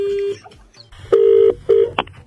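A telephone keypad beeps out a call number: one short tone, a pause, then two longer tones and a brief final blip, loud and close with no talking, before the call is answered.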